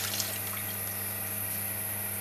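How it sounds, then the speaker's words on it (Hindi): Water pours steadily into a cooking pot for boiling rice, a continuous rushing stream with a constant electrical hum underneath and no talking. "मैं तीन पानी के डालूंगा।"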